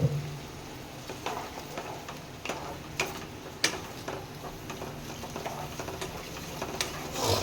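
Spiced paneer curry with potatoes sautés in a pan, a low continuous sizzle broken by intermittent scraping and tapping of a spoon, fairly faint and without speech.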